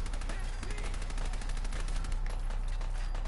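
A submachine gun in the Fallout 4 game fires in a rapid, continuous automatic burst that sounds close and loud for the whole stretch.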